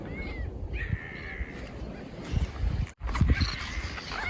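Harsh, raspy calls ring out repeatedly from birds at a nesting colony on Marka Island near Al-Birk, Jizan, over a busy, noisy background, several birds squawking near and far with brief gaps between bursts.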